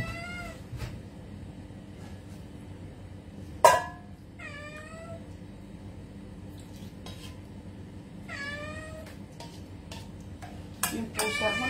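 A house cat meows repeatedly in a home kitchen during cooking, several short rising calls spread across the clip, with faint clinks of dishes and cutlery and low background hum.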